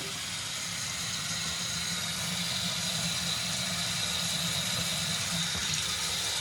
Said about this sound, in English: I noticed that the sink was not draining very well at all.